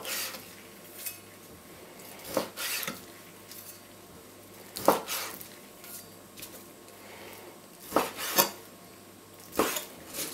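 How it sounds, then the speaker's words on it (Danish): A knife slices raw meat into nugget-sized pieces on a board, giving several quiet, irregular cutting knocks and taps over a low steady background. "det tager jeg så lige og skærer igennem i de størrelser, jeg synes, jeg vil have de her nuggets"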